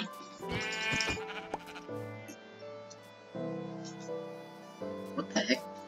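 Blocky video-game sheep bleat repeatedly in short, harmonic bursts, near and fairly loud, with a player speaking between and over the calls.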